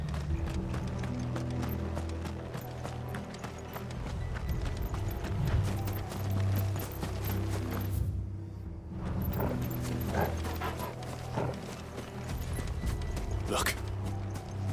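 Horses galloping in Final Fantasy XVI, a continuous rapid clatter of hooves with creaking and rattling, under music and a voice speaking.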